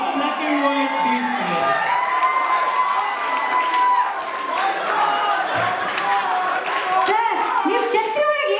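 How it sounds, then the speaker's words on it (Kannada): A large audience at a Yugadi celebration show claps and cheers loudly and steadily, with whoops and children shouting, and voices mixed into the noise. "ಮತ್ತೊಮ್ಮೆ ಜೋರಾಗಿ ಚಪ್ಪಾಳೆ"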